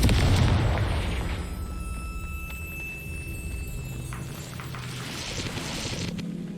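A Confringo spell explosion in Hogwarts Legacy opens with a loud, booming burst that fades into a rumbling tail, followed by softer crackles and a few lighter impacts.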